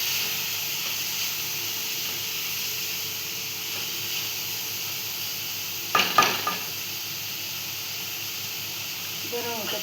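Vegetables sizzle gently in a hot pan for a Chinese-style tadka pasta, a soft, continuous frying hiss. Brief utensil clatter breaks in near the middle, and a faint voice is present.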